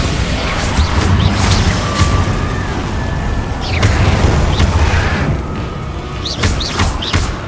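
Bombarda spell explosions in Hogwarts Legacy: repeated heavy booms and crashes in a loud, dense battle din, with several sharp blasts standing out over continuous rumbling.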